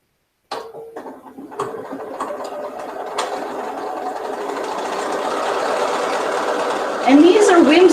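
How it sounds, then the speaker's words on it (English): Sewing machine stitching the seam of a fabric memory bear, a steady close mechanical whir that starts after a few stops and speeds up near the end, with a voice speaking over it. "we go and we finish sewing up most of the seam and we leave this open in the back so that we can stuff it"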